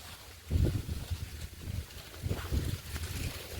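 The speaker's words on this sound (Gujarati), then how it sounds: "પવન પણ કેટલો મસ્ત છે દરિયામાં હોય એવો પવન છે" Strong wind sweeps across a small farm field where maize is being cut, buffeting the microphone in low, uneven gusts. It is fairly quiet, with no talking.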